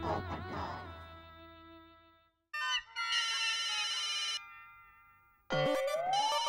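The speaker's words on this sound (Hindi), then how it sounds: "आपने फोन नहीं उठाया इसलिए पोपट भाऊजी भी मेरे मोबाइल पे कर रहे हैं" A mobile phone ringtone plays in bursts of bright electronic melody, with short gaps between phrases, loud and close.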